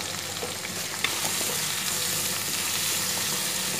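Three green chillies with a quarter teaspoon of turmeric powder sautéing in a pan for Udupi-style sambar, giving a steady close sizzle with occasional faint stirring clicks and no voices.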